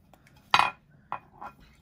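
A few light clinks of ceramic plates knocking together, one sharper clack followed by two softer taps, close by in a quiet room.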